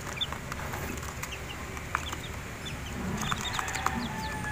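Chickens and small chicks in a rooftop mini poultry make soft clucks and high peeps over a steady background hum, with a few sharper calls and occasional light rustling.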